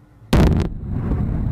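A single loud, sharp blast of weapon fire from a U.S. Army helicopter over the Mojave Desert at Fort Irwin, California, cracks out, followed by a low lingering rumble.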